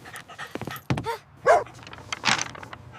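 A dog named Buddy pants and lets out short whimpery barks and huffs, close by and fairly quiet, in a scattered irregular pattern with brief pauses between sounds.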